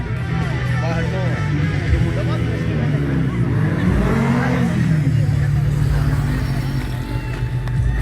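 A car drifting at low speed at an outdoor event, with a steady engine drone and rising and falling revs alongside crowd babble and a voice talking over it, loud and continuous.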